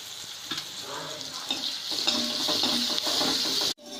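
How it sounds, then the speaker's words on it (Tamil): Onions sauté with curry leaves and green chilies in a pan for pepper chicken, a loud close sizzle and crackle with scraping stirs throughout, ending abruptly. "வெங்காயம் வதங்கிட்டு இருக்கு"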